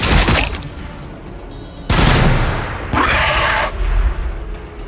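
Bursts of gunfire in Warhammer 40,000 Battlesector, loud and dense, with heavy volleys starting near two and three seconds that layer over a continuous rumble of battle.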